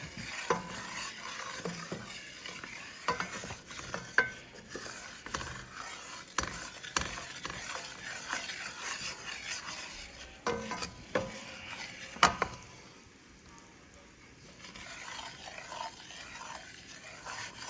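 Spoon stirring a browning roux in a frying pan for gravy, repeated scraping strokes against the pan with a soft sizzle underneath, close and steady with a short quieter stretch near the end.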